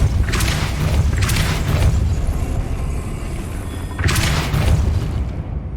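The Depulso force spell is cast in the Hogwarts Legacy video game on PS5, producing loud whooshing blasts in three bursts over a constant low game rumble.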